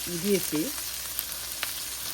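Shredded cabbage frying in a pan for fried rice gives a soft, continuous sizzle, with a brief hum and a few light stirring clicks over it.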